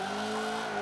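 Sustained tire skid from a tuned grip race car sliding hard in the Forza Motorsport 7 racing game, a continuous loud screech with engine tone under it and no talk.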